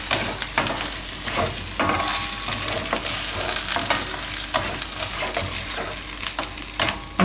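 Cauliflower and peas curry is stirred in a pan over low gas, with a close, continuous sizzle broken by repeated scraping strokes of a spoon and sharp clicks against the pan.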